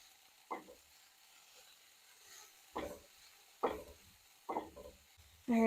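Seasoned vegetables stirred in a pan, giving about five short scraping bursts spaced a second or so apart over a faint background, with a louder stroke at the very end.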